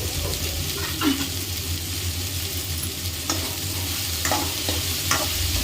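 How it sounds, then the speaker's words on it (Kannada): Chopped okra frying dry in a pan, a steady low sizzle with occasional scraping stirs of a spatula against the metal, continuous and close throughout. "ಮಿನಿಮಮ್ ಒಂದು 5ರಿಂದ 8 ನಿಮಿಷ ಫ್ರೈ ಮಾಡಿದ್ರೆ ಸಾಕು ರೀ"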